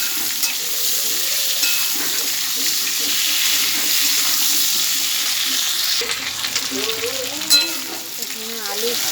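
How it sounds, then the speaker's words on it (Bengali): Potatoes frying in oil in a pan for a fish curry with pointed gourd and tomato, a loud steady sizzle with stirring scrapes, and a voice talking faintly underneath in the latter part. "এখানে আলু ভাজা হচ্ছে"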